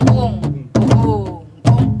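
Low, thudding drum strokes played during a pansori lesson practicing the slow jinyangjo rhythm, with three heavy hits spaced evenly and loudly close up, each ringing out before the next.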